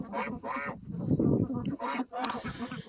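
Geese honk and cackle nearby in short repeated calls, with soft rustling and low murmurs between the honks.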